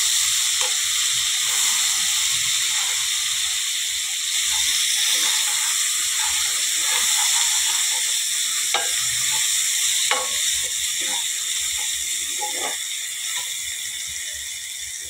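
Tomato sauce sautés in a hot pan while being stirred, giving a steady, close, continuous sizzle and hiss with occasional scraping stirs throughout.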